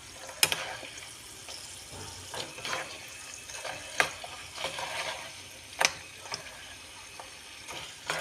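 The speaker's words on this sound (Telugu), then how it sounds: "చూడండి, ఫ్రై అవుతున్నాయి." Peanuts frying in a pan for spicy rice, with a steady sizzle broken by scattered crackles and pops and occasional stirring scrapes, close and alone.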